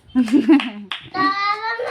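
A few quick hand claps from a child at home, short and close, mixed in with a voice speaking and singing.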